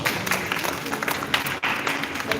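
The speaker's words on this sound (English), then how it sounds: "give March a round of applause" Audience applause at a modeling workshop in the Philippines, dense continuous clapping from a room of people, close and fairly loud with no talk over it.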